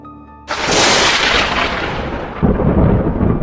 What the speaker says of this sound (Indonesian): Petir menyambar pohon beringin di depan rumah mereka.